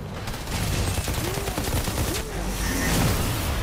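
Rapid gunfire fills a firefight in the video game Outriders, with dense bursts of shots running continuously under a low rumbling game soundscape.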